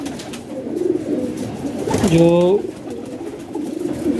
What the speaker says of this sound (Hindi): ये बड़ा मेन कबूतर है बादशाह